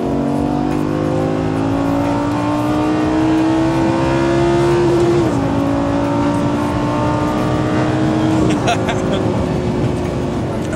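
A Lamborghini Gallardo LP560 on AirLift air suspension drives along, its engine a steady loud drone with two brief shifts in pitch, while people talk over it inside the car.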